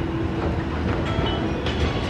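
A JR 225 series local train pulls into platform 3 at Kyoto station, a steady close rumble of wheels and motors filling the platform with faint high squeals, no voices.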